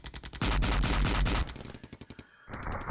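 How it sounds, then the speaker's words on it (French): Tank machine guns and 20 mm cannons fire in a Cold War wargame, loud rapid bursts of automatic gunfire, first dense and heavy, then a quicker rattle of separate shots, breaking off briefly before firing resumes. "Alors ils sont engagés par les mitrailleuses de nos chars. Et c'est des canons de 20 mm."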